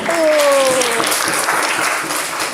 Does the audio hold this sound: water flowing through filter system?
no